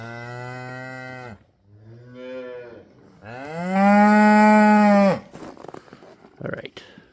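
Cattle moo at 3 a.m. in -25°C cold: three long, close moos, the last the loudest and most drawn-out, followed by faint rustling.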